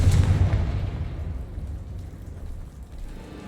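A booming Confringo explosion spell from the Hogwarts Legacy game gives a loud burst at the start, then a crackling rumble that fades away.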